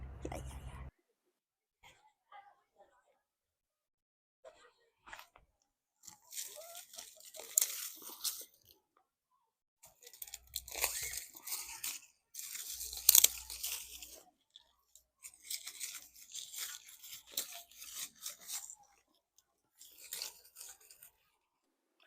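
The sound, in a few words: crunching withered field bean stalks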